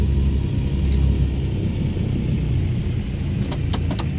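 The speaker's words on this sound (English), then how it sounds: "I am really enjoying the sounds of this aircraft" Twin piston engines of a DC-3 aircraft in MSFS 2020, a deep, steady droning rumble held at constant loudness throughout, with a few brief clicks near the end.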